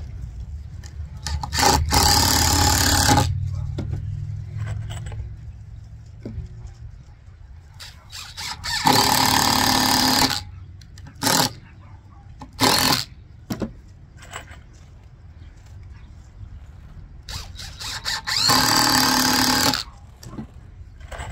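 A power drill whirs in several bursts, a couple of long runs and a few short trigger pulls, close by, with quiet pauses between.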